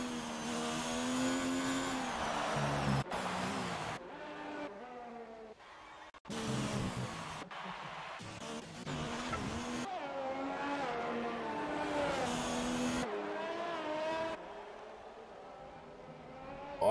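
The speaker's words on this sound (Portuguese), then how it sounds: "Você vai na câmera on-board no carro do Zói." F1 race car on-board at Japan in a racing game: a high-pitched engine screams continuously, pitch climbing through gears with abrupt cuts at shifts and braking, loud and close, with no talk.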